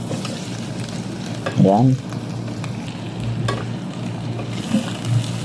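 Chicken wings sizzle and fry in a pan while being stirred, a steady crackling hiss throughout with occasional scraping, and a brief spoken word near the middle.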